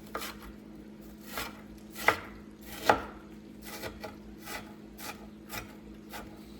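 A knife chopping onion into smaller pieces on a board, a dozen or so close, uneven thuds with a couple of sharper knocks, no talking.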